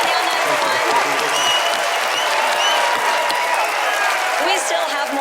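A studio audience on a magic show gives loud, sustained applause mixed with cheering and crowd voices, filling the room evenly without a break.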